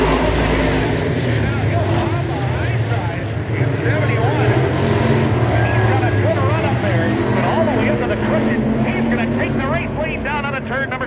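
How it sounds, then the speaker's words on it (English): IMCA stock cars racing on a dirt track during a heat race, engines droning loudly and continuously throughout, with a race announcer talking over the roar. "It's now Trent Grager, your race leader, coming around to the white flag"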